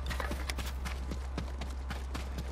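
Rapid rhythmic clip-clop of horse hooves galloping in Ghost of Tsushima, steady and fairly close, over a constant low hum of game background sound.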